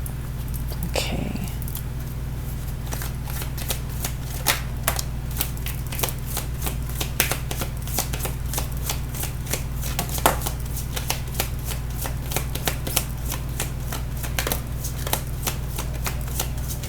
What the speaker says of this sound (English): Actually, shuffle it again this way.